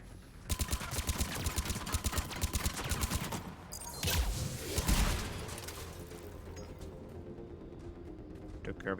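Enemy gunfire in Mass Effect 3: rapid bursts of shots crackle in quick succession, thinning briefly, then swelling into a dense, loud volley with a heavy blast near the middle. A voice talks over the shooting.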